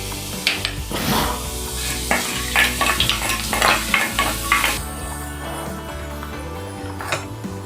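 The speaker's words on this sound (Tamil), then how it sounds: "இப்போ கடுகு நல்லா பொரிஞ்சிருச்சு." Mustard seeds and fenugreek spluttering and crackling in hot oil, with stirring and scraping in the pan during the first half, then a steadier sizzle with scattered pops, close up with no talking.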